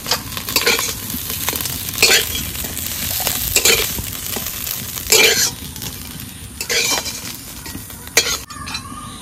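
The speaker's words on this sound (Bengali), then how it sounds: "মাছগুলো একদম মসৃণ করে ভেজে নিচ্ছে" Steady sizzling of fish frying in a hot pan, with occasional scraping and stirring clatter on top.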